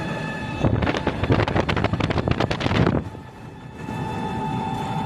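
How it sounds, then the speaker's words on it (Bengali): A toto electric rickshaw rolls along an empty, open road, with a rattling rumble and heavy wind buffeting for a few seconds, then easing to a softer steady hum. "এখন আমি টোটো নিয়ে যাচ্ছি"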